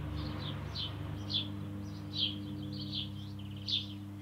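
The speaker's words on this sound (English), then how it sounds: "I'm right now currently outside in my garden, and there are all these birds." Birds chirp in a garden near woods, short bright calls repeating every second or so at moderate distance over a steady low hum.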